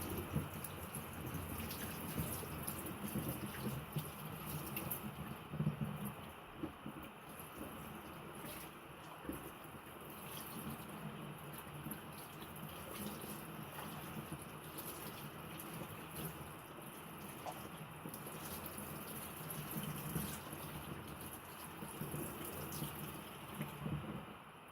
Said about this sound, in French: On vient rincer à l'eau chaude du robinet